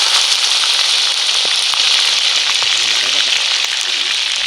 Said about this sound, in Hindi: इसी घी के अंदर आप गोश्त को रोस्ट करेंगे।